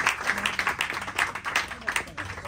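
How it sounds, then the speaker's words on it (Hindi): An audience at a musical show bursts into applause for a young tabla player, a quick scatter of claps heard close, with voices mixed in. "एक बार जोरदार तालियां हो जाए"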